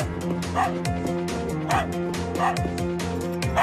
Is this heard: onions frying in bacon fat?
no